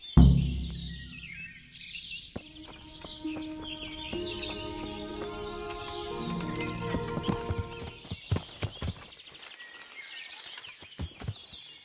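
Horse hooves clip-clop steadily at close range in the medieval game Kingdom Come: Deliverance, with a neigh early on, faint bird calls in the background and a cluster of sharper hoof strikes near the end.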